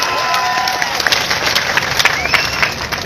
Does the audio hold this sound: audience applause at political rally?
yes